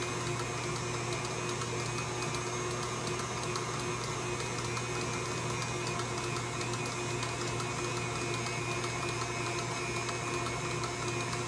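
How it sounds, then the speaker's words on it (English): An electric kitchen mixer running steadily while making divinity candy, a continuous even motor whir with no breaks, fairly faint and heard alone. "let me bring you over here to the mixer so you can see what I'm doing"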